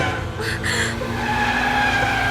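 A car skids as it swings into a sharp turn in a movie scene: sustained tire squeal with engine noise throughout, loud and close, with brief voices faintly under it.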